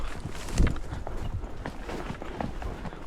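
Hooves of horses thud softly as they walk along a grassy verge on a mountain trail, a loose, uneven series of muffled steps close by, with the walking continuing throughout.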